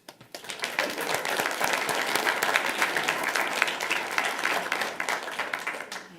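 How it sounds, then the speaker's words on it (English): Sustained applause from an audience at a school board meeting, steady dense clapping that rises quickly and holds loud for about six seconds before tapering slightly. "keep your hands up for more applause"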